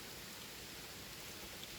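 Rain falling outdoors in a field, a dense, even hiss of drops that holds steady throughout with no voices.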